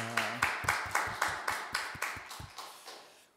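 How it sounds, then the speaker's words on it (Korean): A congregation at a Sunday worship service claps in a steady, even rhythm. About a dozen distinct, fairly faint claps gradually fade away, with no talking. "우리의 찬양과 기도를 바친 하나님께 영광의 박수 올려드리겠습니다."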